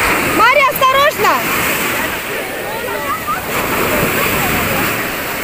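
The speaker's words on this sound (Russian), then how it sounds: "Волна сильная." Strong waves rush and splash continuously at close range, with shouting and excited voices over the surf.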